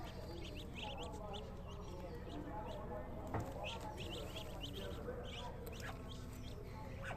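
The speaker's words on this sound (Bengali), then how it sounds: "এখানটায় হাঁসের বাচ্চাগুলো বাঁধা আছে" Tethered ducklings with their mother duck close by, soft quacks and peeps scattered over a steady rural background hum, with people talking through the whole stretch.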